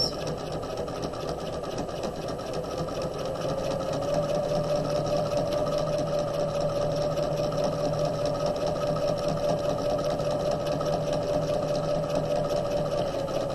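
A home sewing machine stitches across the top of a pocket on a tote bag lining, running in one steady, continuous whir with a sustained motor tone that holds close and even throughout.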